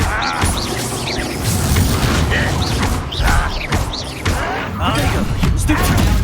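Disarming spell clashes during Hogwarts Legacy combat: repeated heavy crashes, thumps and whooshing magical bursts, loud and continuous across six seconds, with shouted voices mixed in.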